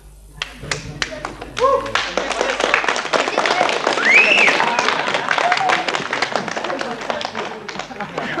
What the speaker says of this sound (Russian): Бурные аплодисменты победителю!